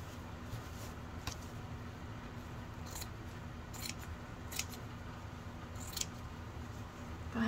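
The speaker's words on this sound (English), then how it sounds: "Probably hear the scissors." Scissors snip through fabric in a handful of crisp, separate cuts over a quiet room hum, close by.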